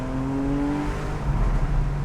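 A Porsche 911 Carrera S (991) engine hums steadily, with a tone that sags slightly and then rises into a fuller growl as the car pulls on a wet, cold road.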